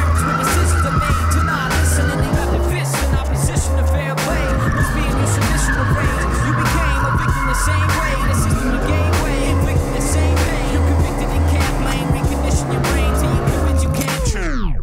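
A Mercedes-AMG GT S sports car with 510 horsepower skids hard, its tires squealing loudly and continuously over a roaring engine for the whole stretch before cutting off at the end.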